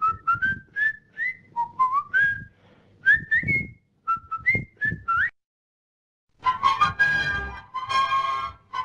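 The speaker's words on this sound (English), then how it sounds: "This is me whistling." A person whistles a lively, wavering melody in short rising phrases, then breaks into a fuller, brighter passage after a brief pause; close and clear, with no talking.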